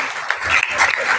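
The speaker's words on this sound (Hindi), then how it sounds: "एक बार जोरदार तालियां हो जाए।" A school audience at an inter college event breaks into applause, a moderately loud wash of clapping lasting a little over a second, with voices faintly mixed in.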